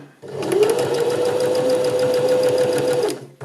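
A sewing machine stitches a seam toward a pivot at a corner, running as one steady, loud, close whir for about three seconds before stopping, heard alone.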